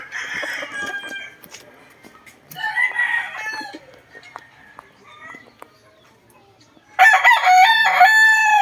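Roosters crow several times, loud and close, with clucking chickens and a voice briefly speaking between the calls.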